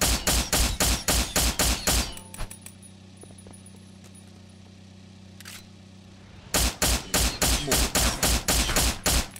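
Rapid automatic gunfire in the video game Miscreated: two loud, evenly spaced bursts of shots, separated by a few seconds of quieter background with small clicks.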